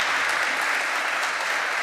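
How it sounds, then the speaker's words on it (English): Dense, continuous applause from a large conference audience after a keynote, steady and loud throughout with no voices standing out. "Let's give Peter another round of applause for this really very insightful keynote."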